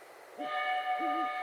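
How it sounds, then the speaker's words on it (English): In the Sherlock Holmes: Crimes and Punishments video game, a train arriving at a station sounds a steady, multi-tone horn or whistle. It rises out of quiet ambience and holds for about a second, clear and moderately loud. "The train is arriving at the station."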